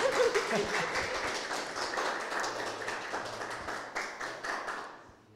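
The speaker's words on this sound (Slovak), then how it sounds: "Potlesk patril najmä tebe, Veroniko, pretože naozaj ďakujeme krásne za" A small audience at the closing workshop of an Erasmus+ safety training project claps in a scattered, fairly close round of applause that gradually thins out and stops.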